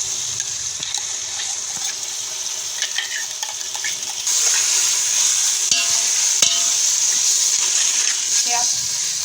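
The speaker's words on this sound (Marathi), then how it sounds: "यात 5 मिनिटासाठी हे आपल्याला परतून घ्यायचं आहे मसाला टाकलेला" Ground masala paste being stir-fried in a pan for chicken dum biryani, a steady close sizzle with scraping stirs that grows louder midway and continues throughout.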